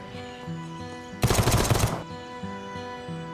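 A UN P9 submachine gun chambered in 5.56mm fires a short rapid automatic burst at 950 rounds per minute in the survival game VEIN, a loud dense rattle of shots over a looping musical background.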